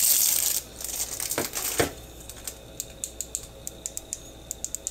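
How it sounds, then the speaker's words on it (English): Buttons on a blue Baofeng BF-F9 V2+ ham radio are pressed one after another, giving a string of short, sharp clicks, close and distinct, after some rustling of packaging. "The buttons are clicky."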